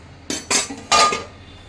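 A cooking pot clanks and clinks close by as cooked rice is drained for green chicken dum biryani, three short metallic knocks in quick succession.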